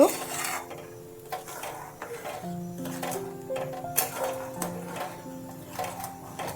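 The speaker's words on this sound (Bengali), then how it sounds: "একটু ভালোভাবে নাড়তে হবে আমার এটা ফুটছে দেখতে পাচ্ছ" Sweet-sour curry sauce for kasuri methi bora curry bubbling in a pan while a spoon stirs it, with scraping and clinking against the pot under a soft sizzle, steady and close throughout.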